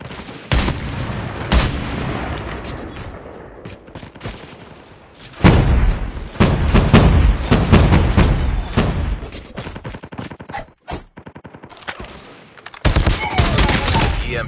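A sentry gun fires in the mobile shooter Call of Duty Mobile on a cramped Shipment match, dense rapid bursts of automatic fire broken by short pauses, mixed with other gunshots and thuds.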